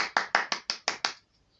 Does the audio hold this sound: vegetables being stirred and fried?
no